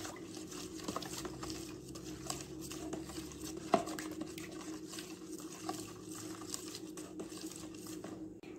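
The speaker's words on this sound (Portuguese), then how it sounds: "Pode misturar até dissolver tudo o sal aqui e a água misturar com o detergente." Salt, water and liquid detergent stirred together in a container, a continuous soft sloshing and scraping with one sharp knock partway through, no talking.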